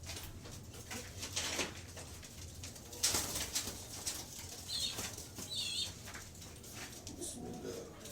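Pigeons flutter and shuffle nearby with bursts of wing flapping, soft cooing and brief chirps mixed in, close and fairly quiet, with a few faint sounds of handling.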